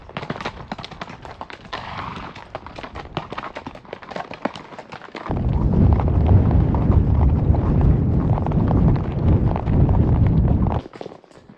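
A horse walks on a wild mountain trail during a cattle drive, its hooves thudding irregularly at first, then overtaken by a loud, rushing, steady roar that abruptly stops near the end.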